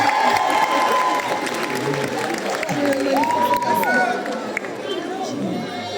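Crowd applause and cheering for Ronnie Love at a film screening event in Brussels, busy and loud, with chatter and voices mixed throughout.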